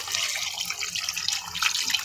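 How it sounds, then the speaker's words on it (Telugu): Water pours steadily into mutton curry in a pressure cooker, a continuous close splashing with a bright, hissing wash and no pauses across the short stretch. "ఇప్పుడు తగినని నీళ్ళు వసేసి కుక్కర్కి మూత పెట్టేస్తా"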